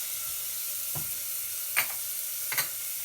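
Coconut and masala go into a hot pan with ginger, giving a quiet, steady sizzle with a few brief sharp stirring scrapes and taps near the end.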